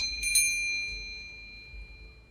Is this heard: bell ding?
yes